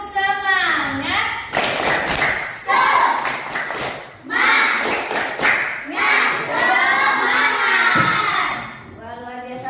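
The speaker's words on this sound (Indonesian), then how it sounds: "mari kita bertepuk semangat dahulu ya. Tepuk semangat." A class of children do a rhythmic spirit clap in a classroom, bursts of patterned clapping mixed with shouted chanting voices, alternating with a teacher speaking between rounds.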